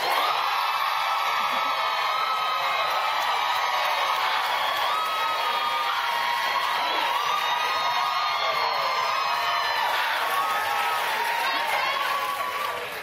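A studio audience cheers, whoops and applauds loudly for a contestant on a talk show, a dense, steady roar of crowd noise and shouting that runs throughout.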